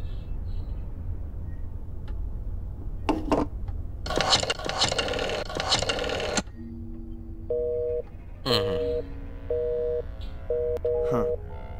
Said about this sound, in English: I just wanted to call my mother, but it was busy